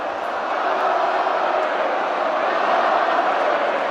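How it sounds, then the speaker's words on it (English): A stadium crowd at the Gabba in Brisbane during an AFL match, Brisbane versus Geelong, makes a steady, dense roar as chanting begins, filling the whole stretch at an even, loud level without clear breaks. "the crowd just starting to chant here at the Gabba"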